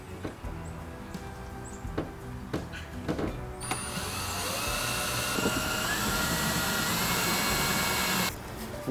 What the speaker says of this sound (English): Now I'm going to take my drill and I'm going to put a couple small pilot holes in there.